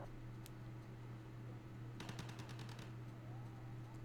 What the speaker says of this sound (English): Apparently they're firing their fully automatic sniper rifle.